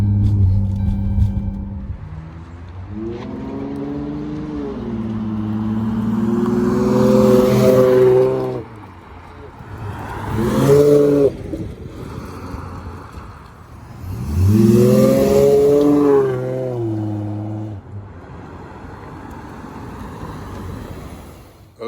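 A V6 Dodge Charger fitted with a pedal box, driven in City, Sport and Sport Plus modes, revs and accelerates in several loud pulls, its engine note climbing in pitch, easing off, then surging again.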